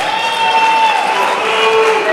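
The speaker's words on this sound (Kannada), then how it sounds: "ವೆಲ್ಕಮ್ ಅವರನ್ನ ಜೋರದ ಚಪ್ಪಾಳೆಗಳ ಮೂಲಕ ವೆಲ್ಕಮ್ ಮಾಡಿ" Loud, continuous applause and crowd noise fill a sangeeth celebration as an engaged couple is welcomed, dense clapping sustained throughout with cheering mixed in.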